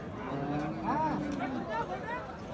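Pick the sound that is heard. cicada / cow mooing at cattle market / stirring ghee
cow mooing at cattle market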